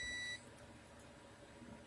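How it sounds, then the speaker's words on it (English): Electronic alarm beeps from a Solinba 4 kW solar inverter under load: a short, loud steady tone at the very start that cuts off after a fraction of a second, leaving a low background hum. "It's doing an alarm right now."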